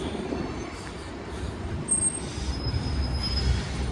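A train at the Fort Worth Central transportation center rolls past with steady, loud rumble and high metallic wheel squeal rising partway through, with no voices.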